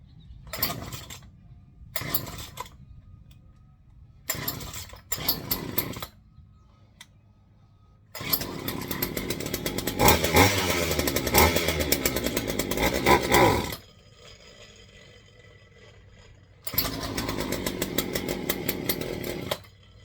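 A Craftsman 40cc chainsaw with an 18-inch bar is pulled several times in short bursts, then catches and roars loudly for a few seconds, drops to a rough idle, and revs up again, close by.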